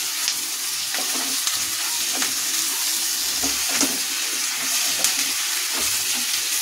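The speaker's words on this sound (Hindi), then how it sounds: "अब मैं ये शिमला मिर्च डाल दूंगी इसमें।" Capsicum frying in a pan for a restaurant-style chilli mushroom dish, a continuous hissing sizzle with scraping stirring strokes recurring every second or so, close and steady, with no talk.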